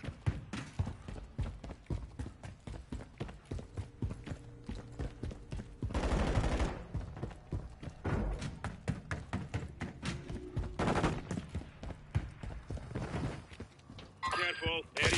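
A pink gun fires in a video game, rapid sharp shots in long repeated bursts, with a person talking over the gunfire throughout.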